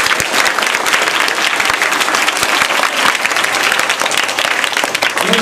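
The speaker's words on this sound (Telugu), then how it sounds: "మీరందరూ కూడా గట్టిగా చప్పట్లు పెట్టండి" Children at a Teacher's Day event clap loudly together, a dense, energetic round of applause sustained evenly for several seconds without pause.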